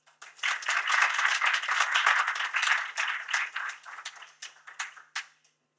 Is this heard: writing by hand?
no